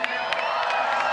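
Salt Lake City crowd cheering at a women's street skateboarding best trick contest at the X Games, a steady wash of whoops and cheers throughout.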